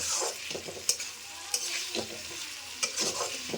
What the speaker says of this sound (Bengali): ভালো করে আমি এবার এটা নেড়ে নেব